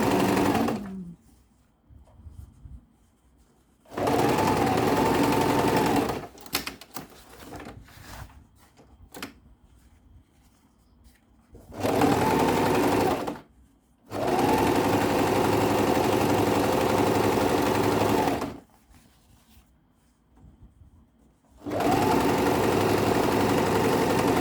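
Sewing machine stitching a shirt, several separate bursts of steady motor hum and needle chatter, each lasting a few seconds, with quieter handling sounds between runs.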